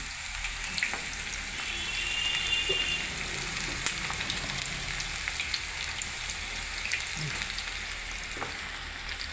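Okra pieces fry in hot oil with a continuous bright sizzle and scattered crackling pops, moderately close and steady with no talk.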